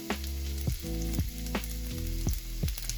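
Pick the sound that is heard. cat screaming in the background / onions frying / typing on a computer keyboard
onions frying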